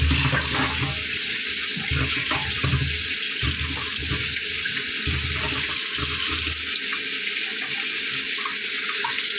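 Tap water runs steadily into a sink as cut potatoes are washed, a loud, continuous close-up gush with low rumbling splashes and handling as the potatoes are rinsed, no talking.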